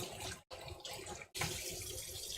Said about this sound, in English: Radish is a little bit more of an aggressive rinse